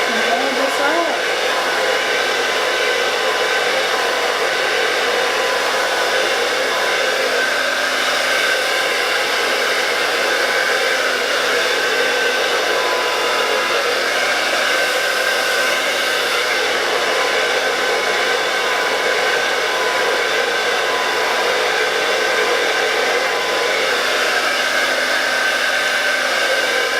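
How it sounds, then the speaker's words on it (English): A hair dryer blows hair dry during flat iron styling, one continuous loud, steady whooshing drone from start to finish with no pauses. "just go ahead and blow dry it down a little bit and you'll get rid of that"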